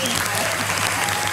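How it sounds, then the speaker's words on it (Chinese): Brief burst of dense, loud applause from a studio audience on a hotpot cooking show, continuous and full, with voices mixed in underneath. "掌声鼓励！"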